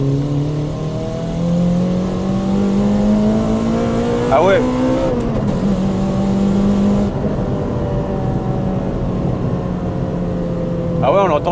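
Toyota Celica TS engine pulling hard in second gear, its rising drone climbing steadily in pitch, briefly dropping at a shift and climbing again, loud and close under a short spoken exclamation.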